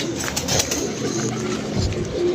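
A female pigeon kept by a pigeon fancier coos in low, soft, steady phrases close by, with faint background noise throughout.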